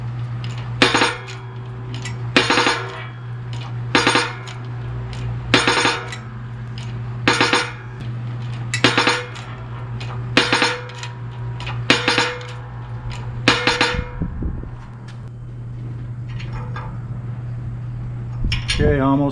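Wheel bearings being forced onto a '66 Mustang differential shaft by a 20-ton hydraulic press, a run of sharp metallic pops and clinks spaced about every second and a half over a steady machine hum, ending with a final seating pop.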